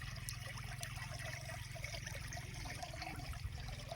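Clean water from a tubewell motor pouring into a crop field, a soft steady trickle and splash under a low constant rumble, faint and continuous throughout.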